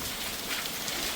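Heavy rain falls in a dense, even hiss, loud and continuous with no break and no voices over it.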